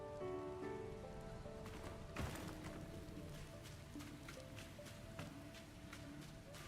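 Rain-like dripping from water leaking inside a colony in the video game Beast of Reincarnation, a faint, steady patter of drops on surfaces with a few sharper splashes, beneath sustained tonal game music and ambience.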